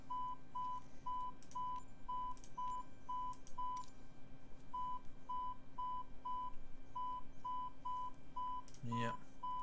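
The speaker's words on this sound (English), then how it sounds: "Is a rather big beeping." Steady cockpit beeping in Microsoft Flight Simulator, a string of short, evenly spaced electronic beeps repeating on one pitch with a brief pause midway, moderately loud over a low constant hum, with a sharp click near the end.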